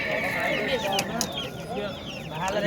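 Chicks and poultry chirping and clucking among a crowded bird market, a busy mix of many small peeping calls with people talking nearby.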